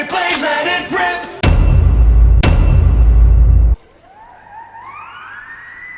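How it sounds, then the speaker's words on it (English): A loud burst of harsh buzzing noise with two sharp clicks, then a quieter wavering whistle that slides up and down, a stock cartoon sound effect. "This random stock cartoon sound effect."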